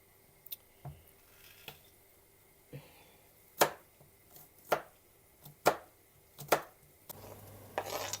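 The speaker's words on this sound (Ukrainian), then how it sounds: "Нарізаю чесник, тому що ще чесник йде." A knife chops garlic on a cutting board in a series of sharp, irregular knocks, close and fairly loud, ending in a low hum.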